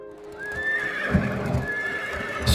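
Horse carts on 19th-century British city streets, with steady clip-clop of hooves and a loud, drawn-out horse whinny over a busy background, close and clear.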